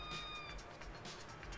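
A cat named Gene meows in the video game No More Heroes, game sounds and effects clutter the mix around a few soft, short mews.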